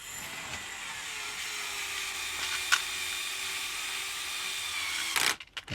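A cordless drill driver with its torque setting turned down runs a screw into plastic, a steady whirring drone lasting several seconds before stopping with a brief burst of clicks at the end.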